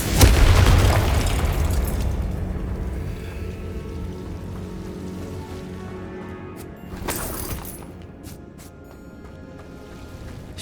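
A Confringo fire spell explodes in the video game Hogwarts Legacy, a loud deep boom at the start that rumbles and fades over several seconds, followed by a brief crackling burst and softer trailing effects.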